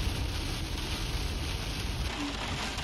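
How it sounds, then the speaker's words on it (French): Heavy rain and strong wind gusts roar steadily during a storm on a road trip, with rough wind buffeting the microphone throughout and rain hissing close by. "La pluie est tellement intense et le vent aussi."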